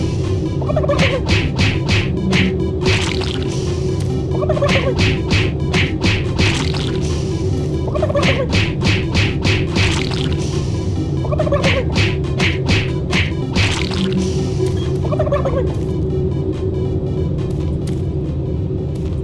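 Turkey gobbling from the Super Turbo Turkey Puncher 3 arcade machine in Doom 3, loud repeated gobble bursts about every two to three seconds over a steady low mechanical hum.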